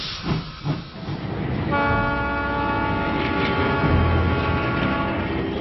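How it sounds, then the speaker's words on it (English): A Swiss cog railway train climbs uphill, rumbling and hissing steadily, with a sustained horn-like tone joining partway through; continuous mechanical noise, no voices. "This railway in Switzerland uses cogs instead of normal wheels to crank its way uphill."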